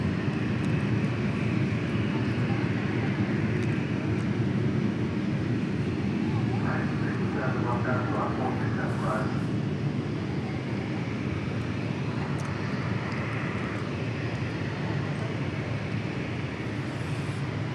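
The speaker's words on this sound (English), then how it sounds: "Next departure looks like it's a Phenom 300." An Embraer Phenom 300 business jet departs Dallas Love Field, a steady loud broadband engine roar holding throughout, with a voice speaking over it partway through.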